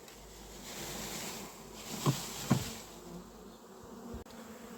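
Honeybee swarm being taken down from a tree, a steady buzzing drone of many bees throughout with a couple of brief louder knocks midway.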